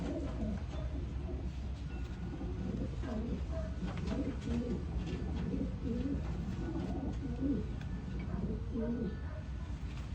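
Racing pigeons coo in soft, repeated low burbles close by in a loft, a steady murmur of several birds at once, with people talking over them.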